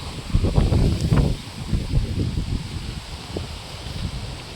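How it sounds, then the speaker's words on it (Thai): Strong wind gusts across an open farm plot with bamboo growing along both sides, a steady rushing roar with louder buffets early on, close to the microphone and with no talk. "ตอนนี้ก็จะมีลมแรงหน่อยนะครับนะ"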